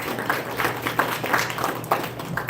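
A convention crowd applauds, a quick run of close, overlapping claps with soft rhythmic peaks.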